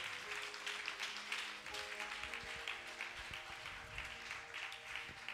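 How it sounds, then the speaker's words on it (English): Church congregation claps in sustained, quiet applause heard from a distance, with a faint background hum and scattered low thumps underneath. "Oh, clap for my daughter."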